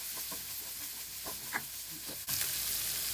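Onions tossed into hot oil after browned garlic for pork igado crackle and sizzle steadily, with light stirring scrapes and a sharp clatter as they go in.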